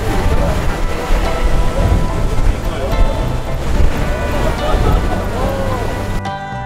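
Steady gusting wind roars across the Great Wall of China, loud and continuous, with a voice briefly audible beneath it.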